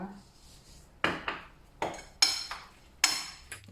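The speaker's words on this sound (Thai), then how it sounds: "เราก็มาตีไข่เจียวต่อนะคะ" A utensil knocks against a bowl while eggs are beaten for a Thai-style omelette with potato and salt, giving about six separate sharp clinks spaced unevenly over a quiet background.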